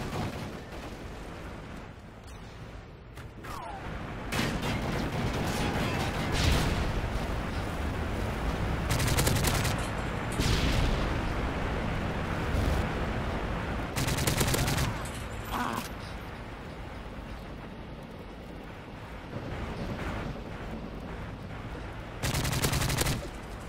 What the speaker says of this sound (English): Enemy strafe run incoming.